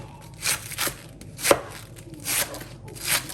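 A knife cuts a cabbage into four equal parts, with several separate crunching chops spaced about half a second to a second apart, close and clear.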